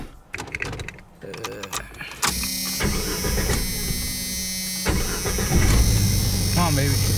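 A Jeep engine with a failing water pump cranks and catches, then settles into a steady running drone, with a few voices talking nearby before it starts.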